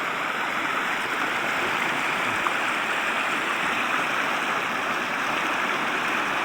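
The Tigbaw River flows with a continuous broad rushing roar, close and steady throughout, with no voices over it.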